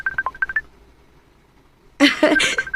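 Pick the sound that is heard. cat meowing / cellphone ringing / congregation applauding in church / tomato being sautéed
cellphone ringing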